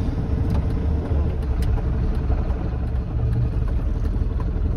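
A Jeep crawls slowly downhill in low range gear on a Bulgarian mountain road, its engine a steady close low rumble with rattles and clatter throughout.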